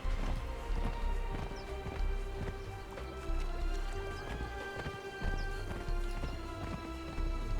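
Horse hooves galloping in the video game Conan Exiles, a fast rhythmic clip-clop repeating in bursts of strides, fairly quiet and mostly alone.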